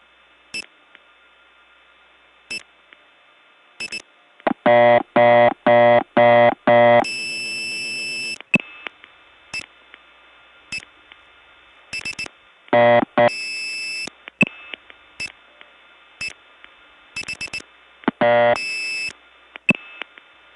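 Telephone call attempts on a 1979 step-by-step tandem exchange in Gainesville, Georgia: rapid dial-pulse clicks and a short tone burst, followed by repeated bursts of a fast, harsh interrupted reorder tone, loud and without speech.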